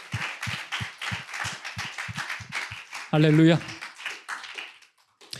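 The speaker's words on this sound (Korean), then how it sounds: "힘찬 박수 한번 칠까요?" Rhythmic group clapping at a Sunday youth worship service in a New York church, steady beats across the room, then a single loud vocal exclamation breaking in briefly before the claps fade.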